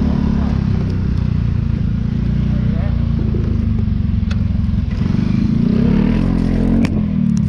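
A Honda PCX 125 scooter rides through city traffic. Its engine drones loud and continuous from start to finish under wind rumble, and voices talk over it.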